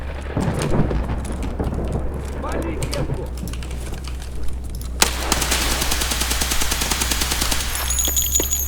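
Automatic gunfire in the shooter game Escape from Tarkov, a long rattling burst of rapid shots starting midway and continuing to the end, heard over an earlier stretch of background game noise and talk.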